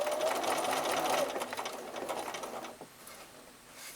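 Sewing machine running a fast, even stitch on a quilt's flange binding with a 1/4 inch presser foot, buzzing loudly for about a second, then slowing into a few separate stitches before stopping.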